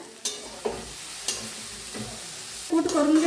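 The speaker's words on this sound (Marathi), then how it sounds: "ह्याच्यात टाकूया गवारी हा ना गवारी बी आपली छान भाजले बघा मिक्स करूया भाजीला" Cluster beans sizzle in a pan while being stirred for a village-style guar vegetable dish, with a few sharp spoon taps against the pan over a steady hiss and a louder scraping stir at the end.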